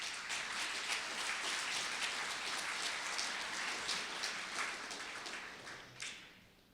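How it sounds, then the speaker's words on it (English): Audience applause at a community listening event in Canyon County, Idaho, a soft, distant and continuous patter of many hands clapping that tapers off near the end. "So you can clap now"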